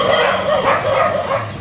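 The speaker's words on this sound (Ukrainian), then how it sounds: "Тільки пси бігають" Dogs roaming a residential courtyard bark and yip loudly and continuously at close range, a short dense burst of barking with no talk.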